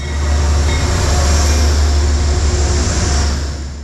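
A Metro-North train led by New Haven P32 ACDM locomotive 231 rumbles loudly and steadily close by as it slows to a stop, a heavy low engine drone under broadband rail noise.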